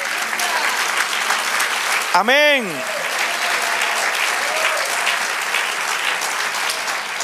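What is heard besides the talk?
congregation applause to the Lord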